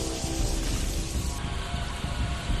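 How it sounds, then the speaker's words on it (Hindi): Heavy rain pouring down over flooded streets in a city in Uttar Pradesh, a steady dense hiss of downpour with a low rumbling undertone, constant and loud throughout with no voices. "भारी बारिश ने यूपी के कई शहरों में तांडव मचाया।"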